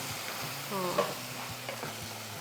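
Carrot paste sizzles and fries in ghee in a pan for carrot kheer, with steady crackling and soft scraping strokes of a spoon stirring through it, close and continuous.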